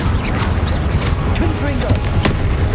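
A Confringo fire blast spell goes off in the Hogwarts Legacy video game, with short booming bursts and crackling hits over a constant low rumble of battle sound, with sharp transients scattered through.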